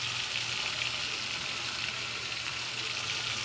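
Two large fish fry in a pan with a loud, steady sizzle and hiss that carries on without a break and with no voices.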